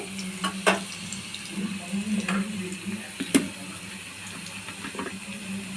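Chopped ginger and garlic frying in oil for chilli chicken, a quiet continuous sizzle broken by a few sharp knocks of a spoon against the pan, no voices.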